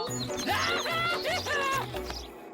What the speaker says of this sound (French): Salut, mon petit oiseau.